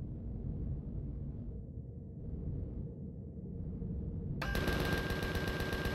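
A weapon fires continuously in the survival game Empyrion, a dense rapid rattle of low, rumbling shots that grows louder and brighter near the end as a harsh blast of noise and a high tone cuts in.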